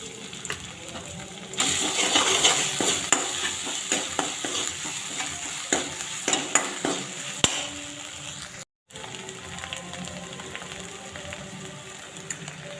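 Onions frying in oil with spices in a pan, a steady close sizzle with scattered crackles and spatula taps that drops out briefly near the end, then resumes more softly.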